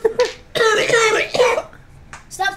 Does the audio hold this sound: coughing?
yes